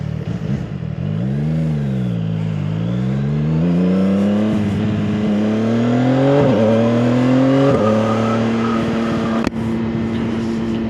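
CFMOTO 675SS motorcycle ridden on a road in North Alabama, its engine loud and close, revving up through gears with rising and falling pitch and brief dips at each shift.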